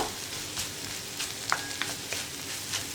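Egg thoran with grated coconut is stirred in a hot pan: a steady low sizzle with soft scrapes and light taps of the spoon every half second or so, close by and with no talking.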